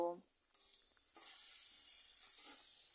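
Spinach cooking water poured into a pan of frying spice paste sets off a soft, steady sizzle with faint scraping stirs, quiet and close, after a brief voice at the start.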